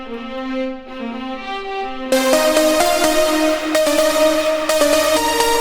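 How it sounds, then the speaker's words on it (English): Sustained synthesized string chords swell and shift between notes, joined midway by a brighter, fuller layer; loud and continuous with no voices. "I added a string layer."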